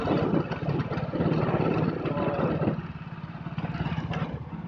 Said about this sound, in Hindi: देख सकते हो पूसा के अंदर ये ट्रैक्टर चल रहा है